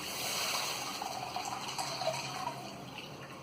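Milk being poured into a pan while making kheer, a steady soft liquid gush with faint dripping and splashing, continuous and fairly close throughout with no talking.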